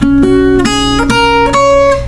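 Plucked acoustic guitar notes ring out in a short, melodic phrase, the intro of a song, each note sustaining clearly with no voices.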